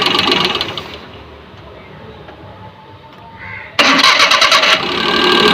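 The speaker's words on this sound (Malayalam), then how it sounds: "ഓഫ് ചെയ്ത് ഒന്നുകൂടെ സ്റ്റാർട്ട് ചെയ്തു." A Maruti 800 car engine, with a fault noise from the timing side, runs loudly, is switched off and drops to a low hum, then cranks and restarts abruptly and runs steadily again, close up.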